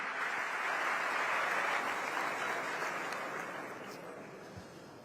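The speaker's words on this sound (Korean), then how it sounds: "따뜻한 박수로 환영해 주시기 바랍니다." Audience at Cairo University applauding to welcome the South Korean president, a dense, even wash of clapping that holds steady and then slowly fades toward the end.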